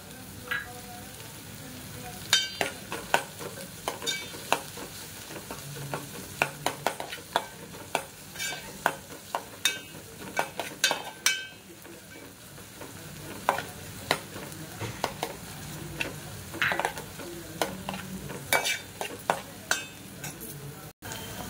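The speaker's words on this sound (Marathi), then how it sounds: "कांदा, टोमॅटो आणि स्वीट कॉर्न चांगले असे परतून घेतोय आपण, तर त्याच्यामध्ये असं वरतून आपण थोडंसं कढीपत्ता टाकूया" Onion, tomato and sweet corn sauté in a pan with curry leaves, a continuous close sizzle broken by frequent sharp scrapes and clinks of a spatula stirring against the metal.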